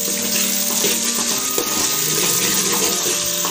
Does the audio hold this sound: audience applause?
no